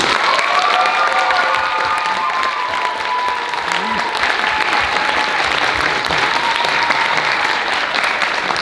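Students and staff at a school talent show put on by a gender-equality club fill the room with sustained applause for the evening's performers, a dense, even clapping roar with a few cheers and shouts mixed in.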